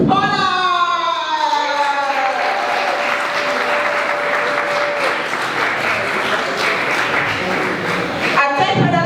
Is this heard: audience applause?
yes